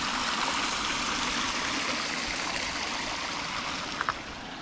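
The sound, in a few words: stream and waterfall flowing in a DIY swim pond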